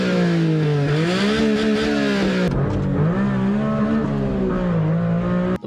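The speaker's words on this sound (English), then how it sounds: "It's a tiny 3-cylinder with ITBs, and has no business sounding as good as it does." A Honda Beat kei car's tiny three-cylinder engine with individual throttle bodies revs hard and loud, its raspy tone rising and dipping through several swells, steady and close throughout before cutting off at the end.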